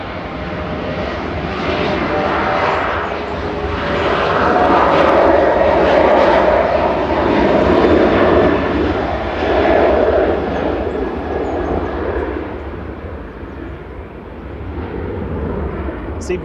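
A Ryanair jet airliner departing from runway 05 left at Manchester Airport toward Palma de Mallorca, a loud continuous engine roar that swells and slowly fades as it climbs away, with someone talking over it.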